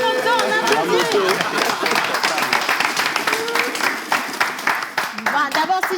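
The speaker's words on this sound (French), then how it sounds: "On applaudit pour la moto. On applaudit." Audience applause at a French live event as a motorcycle prize is presented, dense clapping from a crowd mixed with chatter and cheering voices, fairly loud throughout.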